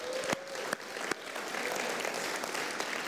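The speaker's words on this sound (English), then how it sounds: "The Lord, a mighty hand clap of praise." A church congregation at a revival morning session gives a hand clap of praise, a steady, dense applause texture at a moderate distance, with a few sharper claps and a brief voice near the start.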